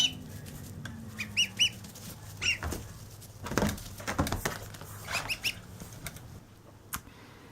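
A newly hatched gosling gives a string of short, high peeps and chirps close by, scattered irregularly amid soft rustling and handling noise.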